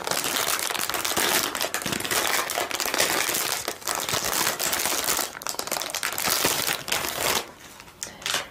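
Packaged nail file being unwrapped, dense close crinkling and crackling of plastic packaging in continuous bursts, with brief quieter gaps near the end and no talk.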